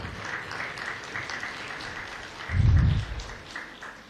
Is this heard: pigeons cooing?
no